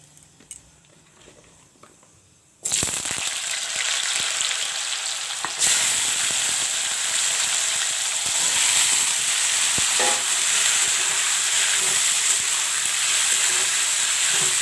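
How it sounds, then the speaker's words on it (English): Barbatti beans and potatoes drop into hot mustard oil with black jeera, setting off a sudden loud sizzle that holds as a steady, close, hissing fry, with light stirring clatter and no talking. "I will let this fry till I grind the masala"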